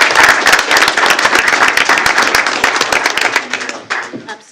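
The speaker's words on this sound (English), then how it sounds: "They deserve the biggest round of applause ever." Loud, dense applause from a school board meeting audience honoring students, with many hands clapping steadily close by for several seconds before it tapers off at the end.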